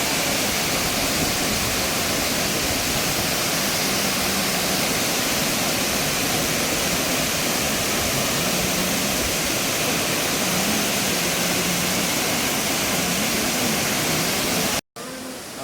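Oliyarikku waterfall pours in a steady, loud, unbroken roar of rushing water that fills the whole clip, with a brief dropout near the end.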